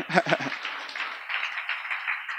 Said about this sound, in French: Nadia n'aime pas ça, on va applaudir.